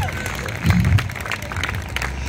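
Church congregation applauding and acclaiming at a revival service, a short burst of clapping and cheering swelling in the middle over a busy murmur of voices.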